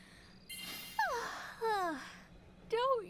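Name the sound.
character yawning, from the video game World of Final Fantasy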